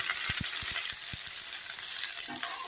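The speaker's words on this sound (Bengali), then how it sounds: "এর মধ্যে আমি বাঁধাকপিগুলো দিয়ে দিলাম।" Shredded cabbage frying in mustard oil with mustard seeds and dried chillies in a wok, a steady close sizzling hiss with a run of quick low knocks and scrapes from stirring.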